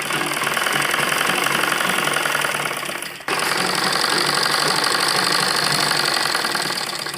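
A sewing machine runs a double line of stitching along a trouser seam, a steady dense mechanical whir that fills both halves with a brief stop in between, loud and close with no talking.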